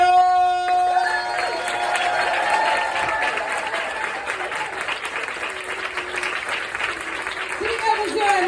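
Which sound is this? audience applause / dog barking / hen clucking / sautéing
audience applause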